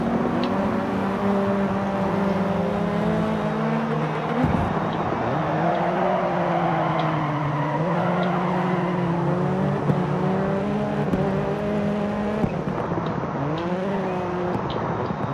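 Peugeot rallycross car in the racing game DIRT 4, its engine droning loudly and steadily with repeated rises and falls in pitch as it revs through gear changes, tire noise underneath, with no talk.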